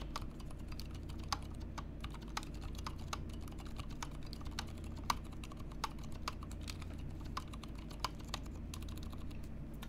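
Typing on a custom-built mechanical keyboard with unlubed switches, a steady run of quiet, slightly scratchy key clacks at close range over a low hum, with a few louder strikes standing out.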